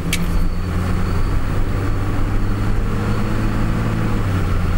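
Chevrolet Trailblazer with an automatic transmission driving along, a steady engine and road drone heard from inside the cabin as it shifts gears.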